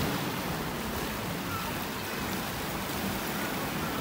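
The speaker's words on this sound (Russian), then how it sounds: "Волны." Steady sea surf washes in along a seafront promenade, a continuous broad hiss and rumble, with no voices.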